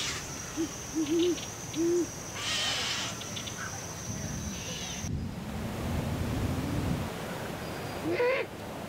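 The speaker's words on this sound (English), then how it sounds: "This evening I hear an owl croak in the oak tree above me." Low, soft great horned owl hoots sound a few times early on from an oak tree, over quiet outdoor night ambience with insects and a faint whooshing background.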